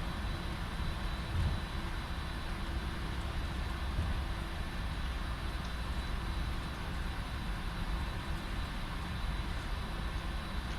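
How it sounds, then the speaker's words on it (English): The auxiliary power unit of a Boeing 747-400F cargo jet hums steadily with a whining drone while the simulated aircraft sits on a cargo apron, unbroken and without talk. "And yeah, APU is running."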